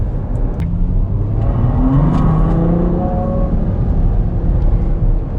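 A car's V12 engine revs up near 3,000 RPM in sport mode, a loud, steady rising drone heard close and sustained for several seconds, with no talking.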